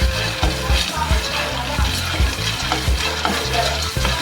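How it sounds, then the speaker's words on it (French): Roasting peanuts are stirred in a hot pot, giving a steady rhythmic scraping and rattling of nuts against the metal, close and fairly loud. "Nous allons bien tourner nos arachides jusqu'à l'obtention d'une couleur bien marron."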